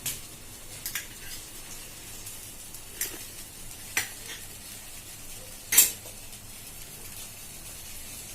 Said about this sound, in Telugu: సగ్గు బియ్యాన్ని బాగా వేయించాలండి